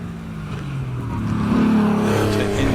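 A Porsche 911 engine revs hard on a run at the Harewood hillclimb, harmonic tones sweeping up and down through gear changes, close and loud and growing louder toward the end, with no voices.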